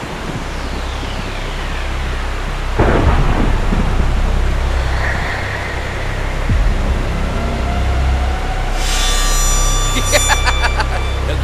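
A storm rages in a Vietnamese 3D animated folk tale, with loud continuous rushing wind and rain, heavy crashes and swooshing gusts building toward the end.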